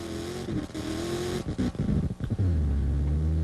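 Shannon Campbell's rock racing vehicle at an extreme rock racing event in Moab, Utah, engine revving hard and roaring as it digs across boulders, loud and continuous with surging throttle bursts and a deep low rumble.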